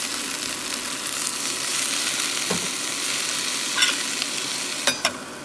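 Spinach sautés with garlic in a hot pan for a Japanese-style dish, a continuous bright sizzle close by, broken by a few scraping stirs and light clinks of a utensil.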